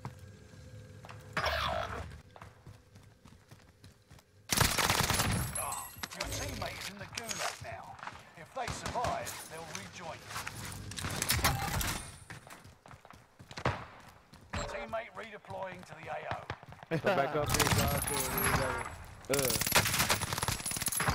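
Gunfire in Call of Duty: Warzone, bursts of shots cracking out at irregular moments amid a busy, loud mix, with voices talking over much of it.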